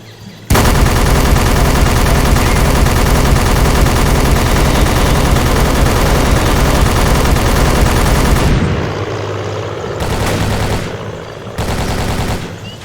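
Sustained light machine gun fire from a History Channel first-person shooter game, a loud, dense continuous burst lasting about eight seconds, then a couple of shorter bursts separated by quieter gaps.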